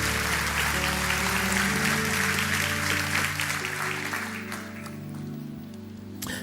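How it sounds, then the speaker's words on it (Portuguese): Church congregation applauding during a Sunday morning service, broad clapping layered over sustained organ or keyboard tones that linger as the applause fades toward the end. "Dê o melhor aplauso que você pode dar ao Senhor."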